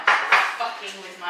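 Dishes and cutlery clatter close by as a dishwasher is loaded, with several sharp clinks and knocks of crockery followed by fading ringing.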